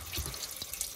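Engine oil drains from a 1980 Toyota pickup, a steady close liquid pour and spatter with a few drip-like splashes, no voices.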